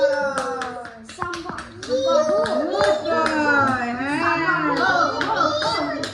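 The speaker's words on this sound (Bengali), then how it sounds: "না জোরে হাততালি দাও।" People clap their hands at a home birthday celebration. Uneven claps mix with excited children's and adults' voices talking over them.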